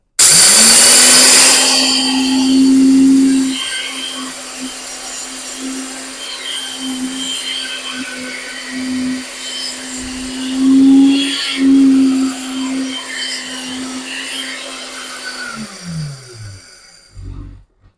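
Lavion HC500 grain mill grinding grain into flour: a loud, steady electric motor whine with a harsh grinding rush at start-up, running alone for about fifteen seconds before spinning down.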